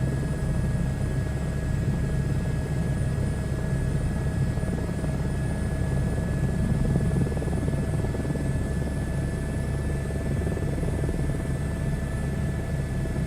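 A helicopter in a VR flight game thrums steadily at moderate volume, a continuous low rotor rumble with sustained tonal whine above it, unbroken and without talk.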